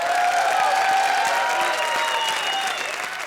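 Studio audience applause for Archana Puran Singh and Arbaaz Khan on a comedy show stage, a dense sustained clapping crowd that fades slightly toward the end.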